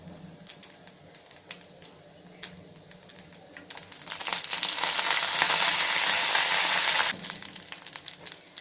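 Light crackling and popping of tempering spices frying in hot oil, then a sudden loud burst of sizzling as curry leaves go in, holding for a few seconds before settling back to soft spatter.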